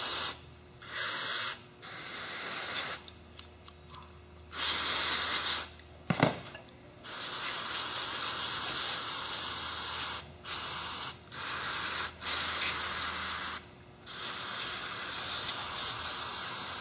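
Compressed air hissing in repeated bursts as dust is blown off dry skateboard bearings, loud close sprays of varying length separated by short quiet gaps.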